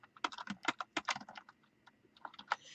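Rapid, uneven keystrokes on a computer keyboard, close and fairly loud, in short bursts with brief pauses, no voices.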